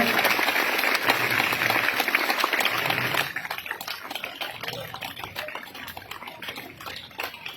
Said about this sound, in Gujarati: દરેક વિદ્યાર્થીઓ તાળીઓના ગડગડાટથી આ ધ્વજારોહણને અહીંયા માણશે।